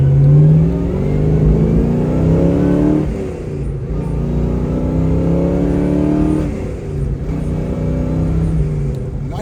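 A 1970 Chevrolet Chevelle drives steadily and accelerates through the gears, its engine note climbing loud and close with two brief dips between shifts, with no voices.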